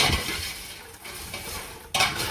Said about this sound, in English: Sugar is melted. So I'll just stir it.